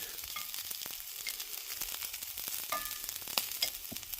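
Onions sizzling in a frying pan in a home kitchen, a quiet continuous crackle with scattered pops and small utensil ticks.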